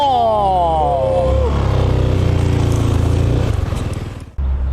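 A Zontes G 368 motorcycle engine runs close by while riding, its pitch sweeping up and down as it revs, then settling into a steady throbbing idle before cutting briefly.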